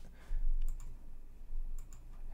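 A few quick clicks of typing on a computer keyboard while entering a command in a Windows command prompt, in two short bursts over low background hum.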